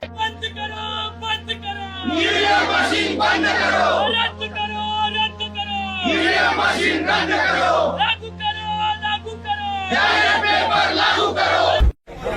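A large protest crowd chants and shouts in loud, rhythmic bursts, three surging waves of massed voices separated by brief lulls, close and dense with a steady low hum beneath.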